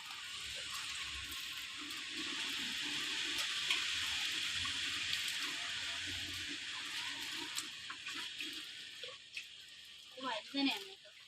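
Water poured out in a home vegetable garden among brinjal plants, a steady close hiss and splash that swells and fades over about eleven seconds, ending with a few brief sloshing bursts.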